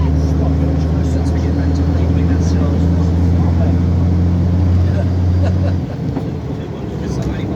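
London bus squeezing up a road between Petts Wood and Scadbury Park toward Orpington, a loud steady diesel hum heard from on board that cuts out near the end, leaving rattling cabin noise, with a voice talking over it.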